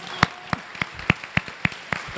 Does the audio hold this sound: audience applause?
yes